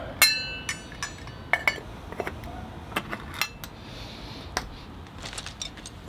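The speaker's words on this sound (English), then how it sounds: "Get it in there, mix it around good, and put the pot back on" A Mors camp pot over a fire, its contents stirred with a utensil and the pot set back down, producing sharp metallic clinks and scrapes in scattered bursts, close and fairly quiet.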